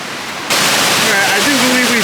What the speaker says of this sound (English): I do believe we found the actual Canyon Falls now.